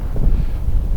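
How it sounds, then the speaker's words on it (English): Strong wind of 15-25 knots on a beach roars and buffets against a microphone in a low, continuous rush. It sounds loud and close for about a second. "Look at the way the sands are sort of alive, in the wind like this."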